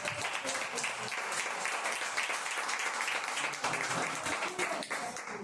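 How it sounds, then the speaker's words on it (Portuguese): Congregation applauding during an evangelical church service, a steady dense wash of clapping that fills the whole stretch at moderate level with faint voices mixed in. "aplausos a Jesus."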